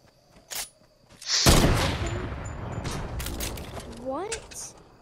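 Gunfire in Fortnite during a squad match: a sharp shot, then a loud burst of gunfire and an explosive boom echoing through the scene, with fainter shots following and people talking over it.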